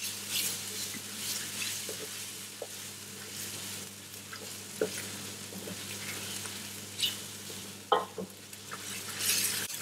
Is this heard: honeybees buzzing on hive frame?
no